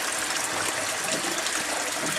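Water gushes steadily out of a 1.5-inch pipe in an aquaponics fish system, a continuous bright splashing rush at moderate volume with no pauses and no voices.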